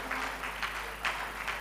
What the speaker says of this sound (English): A round of applause for our brand new president